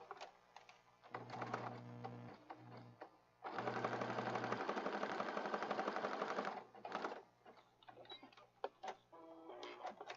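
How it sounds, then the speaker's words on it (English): A sewing machine stitches across fabric and lace in short bursts, then runs one steady, fast rattling stretch of a few seconds before stopping, close up amid light handling noises. "I'll stitch across here."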